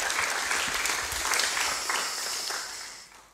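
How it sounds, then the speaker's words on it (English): An audience at a youth activism presentation claps warmly for a speaker, a dense wash of applause that fades gradually toward the end, fairly distant in the room. "A round of applause for Alex."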